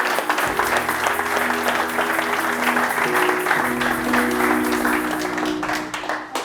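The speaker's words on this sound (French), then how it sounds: "Acclamez ce couple merveilleux." An audience applauds a couple at a church service, a dense, sustained wash of clapping at full strength that tapers off slightly at the end.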